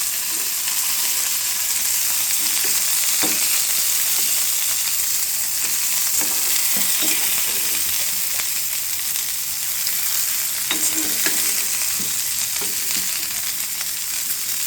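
Sweetcorn frying in a pan over a low flame, a loud, steady sizzle running throughout, broken by soft scraping as the kernels are stirred.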